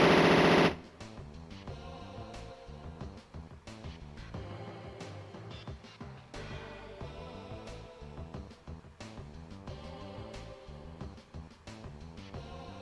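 SMG fire in the MS-DOS mecha game Power Dolls, a long run of rapid, repeated chunky shots over a rhythmic game soundtrack, steady and moderately loud after a brief harsh burst at the start.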